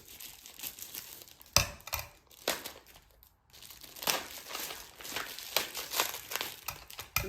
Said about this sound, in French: Je vais prendre les ciseaux rapidement. On va ouvrir le paquet.